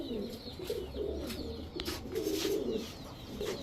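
A male and a female Maxi racer pigeon coo softly and repeatedly, with low, quiet burbling notes close by.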